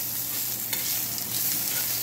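Garlic stir-frying in a pan for char koay kak, a continuous close sizzle with a faint brief scrape partway through, no voices.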